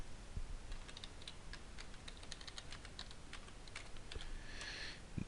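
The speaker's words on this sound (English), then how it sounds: "you're going to just type in backoffice.myvitel.com" Fingers type a web address on a computer keyboard in quick, uneven clusters of light key clicks, close but quiet, with no talk.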